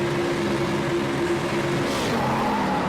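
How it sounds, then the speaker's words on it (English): A stock car at Daytona Speedway in Project Cars 2 does a burnout, its engine roaring steadily and loudly with tire squeal throughout. "because my car wants to do a big burnout like that"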